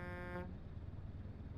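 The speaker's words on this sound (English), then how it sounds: "I actually got an air horn in this run." A sustained truck air horn in Euro Truck Simulator 2 blares loudly for under half a second, then cuts off, leaving engine and road rumble underneath.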